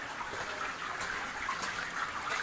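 Water flows and gurgles inside the Hayagriva cave at Shankhu, a continuous splashing rush of moderate loudness that sounds close and echoing.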